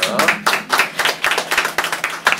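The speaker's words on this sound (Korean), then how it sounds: "박수 주세요" A small audience claps in a quick, uneven run of distinct handclaps, close and fairly loud, the individual claps clearly separate rather than blending into a roar.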